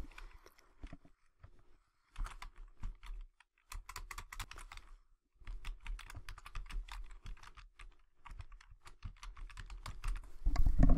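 Quick, irregular clicking of keys on a computer keyboard, in bursts broken by brief pauses, close and moderately loud.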